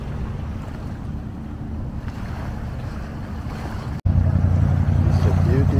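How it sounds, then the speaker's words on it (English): Strong sea waves surge and wash at a seaside pier on a breezy morning, a continuous loud rumble with wind buffeting the microphone and a brief dropout partway through. "The waves are very strong."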